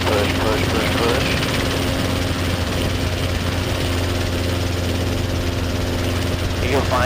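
Robinson R22 training helicopter on a parallel taxiway, its piston engine and rotor giving a loud, steady droning hum with a rhythmic low thrum, with radio chatter and voices talking over it.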